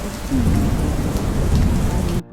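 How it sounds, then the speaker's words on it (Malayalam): Heavy rain pours down in a dense, constant roar with a low rumble beneath it, cutting off abruptly near the end. "രാവിലെ കുറച്ച് നേരത്തേക്ക് നല്ല മഴയായിരുന്നു"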